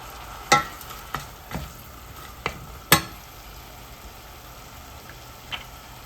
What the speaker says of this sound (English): Stir it up well so all of it gets incorporated nicely. And with the onions.